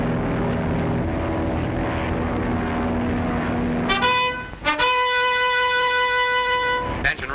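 Propeller airplane engine droning steadily and loudly aboard a 1930s Navy carrier, with sustained horn-like tones joining partway through.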